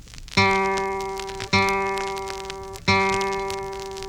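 A single open G (third) guitar string is plucked three times, each note ringing clearly and slowly fading before the next pluck.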